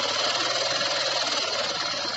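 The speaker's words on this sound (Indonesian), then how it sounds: "setelah motor nyala, kita putar gas dulu ke kanan" A motorcycle engine running with the throttle raised during carburetor setting, a steady close-up buzzing drone with a fast, even pulse and no talk.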